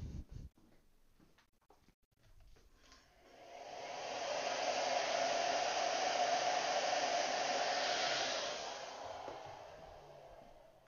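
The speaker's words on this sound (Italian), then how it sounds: "Fatemi usare il phon, così si asciuga." A hair dryer runs steadily to dry paint on a miniature figure of a white electric guitar goblin rocker, starting up after a couple of seconds, holding a loud, even whoosh, then easing off slightly near the end.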